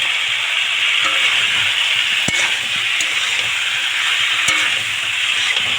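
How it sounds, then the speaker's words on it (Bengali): Pumpkin, potato and pointed gourd being sautéed with prawns in a pan give a steady, close sizzling hiss with a few stirring clacks, continuous and fairly loud throughout, with no talking. "খুব ভালো করে আমি কষিয়ে নেব"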